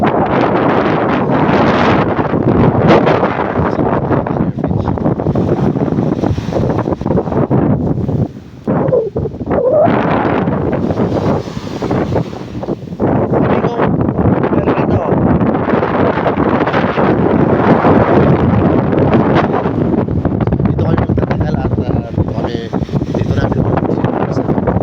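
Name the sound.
strong wind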